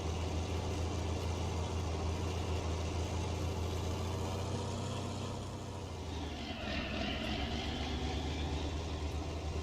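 Combine harvester engine in Farming Simulator 19 during harvest, a loud steady drone with rumbling low tones that dips briefly near the end and then returns, with no talk over it.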